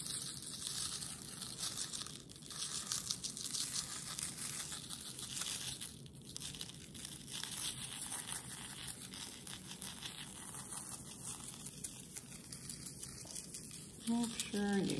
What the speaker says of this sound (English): take your salt and sprinkle your salt